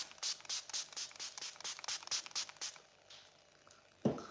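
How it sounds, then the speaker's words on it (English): A rapid series of short, airy spray bursts, about a dozen in a steady rhythm, close by, then a pause and a soft thump. "you need to use the setting spray a few times in a row"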